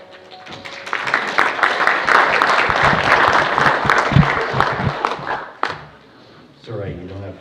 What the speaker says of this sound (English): It's all right, you don't have to clap for politicians